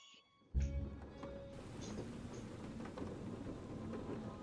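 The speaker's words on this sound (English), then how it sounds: "Outside, the storm raged" A raging storm in the video game A Fisherman's Tale, with a sudden thunder crack followed by steady heavy rain pouring close by.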